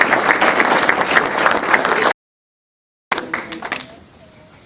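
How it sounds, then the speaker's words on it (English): A round of applause from an audience at an award ceremony, clapping mixed with crowd noise, cut off abruptly by a second of silence before scattered claps and murmuring resume and fade. "and give her a round of applause."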